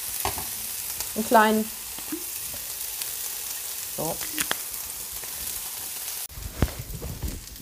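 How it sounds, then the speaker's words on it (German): Bell peppers sizzle and crackle in hot oil at a steady, moderate level, with brief stirring scrapes and a few spoken words over it. "also die auch noch einmal kurz anbraten, eventuell noch mal einen Schuss Öl rein"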